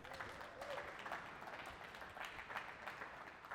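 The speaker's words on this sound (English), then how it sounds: "big round of applause for Object Partners." Faint, steady clapping at a small React developer meetup, a modest crowd applauding a sponsor from some distance, even and unbroken for several seconds.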